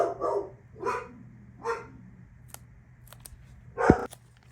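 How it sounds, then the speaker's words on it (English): Pet dogs bark in a few rough bursts of two or three barks each, fairly close and clear, with a sharper yelp and some clicks near the end, over a quiet indoor room. "My dogs were barking."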